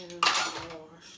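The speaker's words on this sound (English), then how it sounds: "Let me get my hands washed." Hands washed under a running kitchen sink tap during cooking prep, a sudden close splashing burst of water with some clatter of dishes, fading gradually toward the end.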